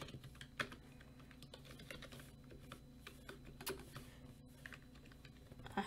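Quiet, fast clicking of typing on a new computer keyboard, with irregular bursts of keystrokes close by and no talk.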